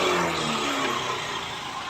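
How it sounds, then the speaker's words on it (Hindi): A Bajaj Discover 125 motorcycle pulls along under throttle, its engine droning close and continuous with rising tones over a wash of road and wind noise, no talk. "जैसे हम रेस को खींचते हैं हमारी बाइक बिल्कुल प्रॉपर यानी कि भाग रही है।"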